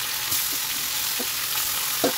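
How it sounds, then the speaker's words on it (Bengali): Marinated chicken sizzles in a pan of fried onions for a Bengali chicken kasa, with a steady broadband fry hiss and a few soft stirring scrapes throughout. "এবার যে ম্যারিনেট করা চিকেনটা ছিল সেটা আমি দিয়ে দেবো।"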